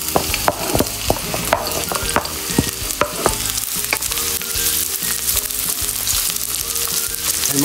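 Onion fries in a pan after ginger, with a constant sizzle under frequent sharp clicks and scrapes of a utensil stirring, close and busy throughout.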